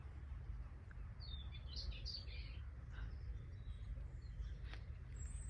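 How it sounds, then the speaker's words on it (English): Small birds call and sing outdoors on the Isle of Wight, a willow warbler calling from an elder alongside a singing robin; faint, scattered high chirps and short phrases sit over a steady low rumble of background noise. "There's a robin singing."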